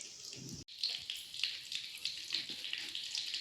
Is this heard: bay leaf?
yes